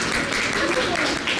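A crowd claps at Kanazawa Station as the new era name Reiwa is announced, a steady dense patter mixed with voices and station noise throughout.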